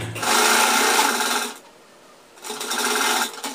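Sewing machine stitching a side pocket onto pajamas, two close, loud bursts of rapid whirring separated by a short pause.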